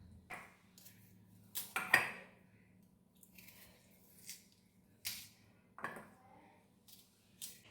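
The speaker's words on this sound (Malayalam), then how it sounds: "അപ്പോൾ നമുക്ക് നെല്ലിക്ക ഒന്ന് ഇങ്ങനെ കഷ്ണമാക്കാം." Indian gooseberries being cut into pieces with a knife in a home kitchen for a coconut curry, giving several sharp clicks and taps of the blade on a board at irregular intervals, fairly close and alone.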